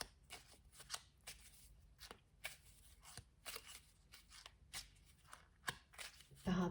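Tarot cards being shuffled close up in quiet bursts of riffling and flicking, a soft thump or two between, with a voice speaking quietly around the shuffling.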